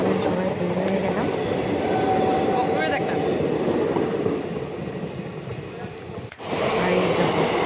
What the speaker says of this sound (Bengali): আর এই দেখো ট্রেন যাচ্ছে,